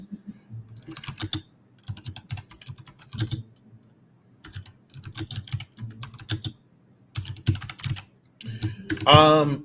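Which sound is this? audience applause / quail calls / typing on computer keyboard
typing on computer keyboard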